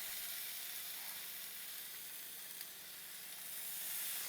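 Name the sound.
bacon sizzling in Ninja Foodi XL air crisp grill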